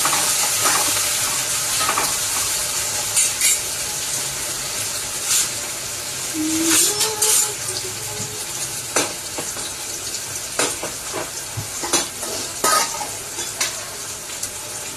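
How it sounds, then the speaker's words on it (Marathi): Onion crackles and sizzles steadily in oil in a pan while a utensil scrapes and stirs in irregular strokes, close up, with no talking. "आता हा टाकलाय फोडणीसाठी मी कांदा, चांगलं परतून घेते।"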